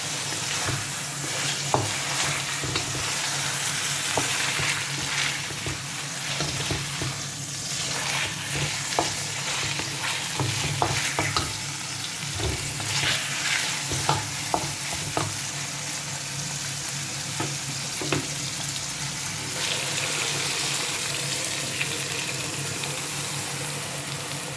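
Marinated whole chicken sizzles steadily in a hot pan with occasional scrapes and clinks of stirring, a continuous close frying crackle with no talking.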